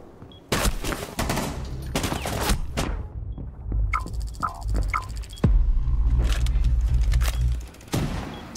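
MP7 submachine gun fire in a tactical shooter, several rapid bursts aimed at cameras, separated by short pauses, with a few isolated single shots and thuds between the loud volleys.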